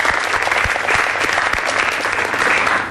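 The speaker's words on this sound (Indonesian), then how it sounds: "Tepuk tangan untuk Ibu Kartini" Studio audience at an Indonesian television entrepreneurship talk show breaks into loud, dense applause that holds steady for about three seconds, a thick wash of many hands clapping close by with a few sharper claps standing out.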